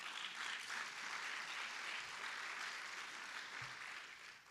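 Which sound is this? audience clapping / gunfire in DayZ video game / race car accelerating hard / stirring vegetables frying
audience clapping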